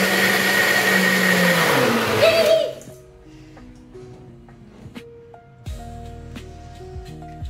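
An electric mixer grinder whirs loudly, grinding soaked cumin seeds with a little water for about two and a half seconds before cutting off, followed by quieter kitchen clatter.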